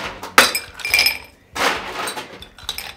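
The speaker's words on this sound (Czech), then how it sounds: "Pár kostek, zalijeme vodou, jelikož ledová voda chladí lépe než samotné kosky ledu." Ice cubes drop into a glass followed by poured water to chill it for a margarita, with two sharp clinking bursts giving way to sloshing, splashing water close by.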